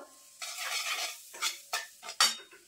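Panch phoron, dried red chillies and turmeric powder crackle in hot oil for tempering a fish sour curry, a close soft sizzle followed by a few sharp spatula scrapes and clinks, no talking.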